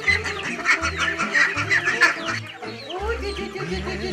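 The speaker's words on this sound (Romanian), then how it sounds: "Am surprins-o pe mătușa Fama hrănind păsările și cățelușii." Chickens and other yard fowl cluck and cackle repeatedly while an elderly woman feeds them outdoors, a busy close chorus of bird calls over soft background music.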